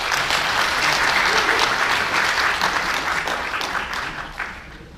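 An audience at a Korean parliamentary audit policy forum applauds a speaker, steady dense clapping that gradually thins and softens toward the end.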